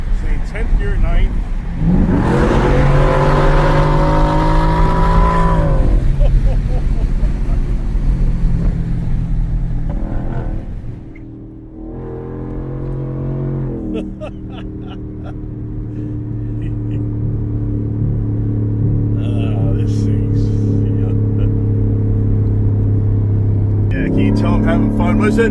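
Race truck engine roaring close by, revving and pulling through gears with rising and falling pitch sweeps, a brief dip around eleven seconds, then sustained heavy drone with voices speaking over it.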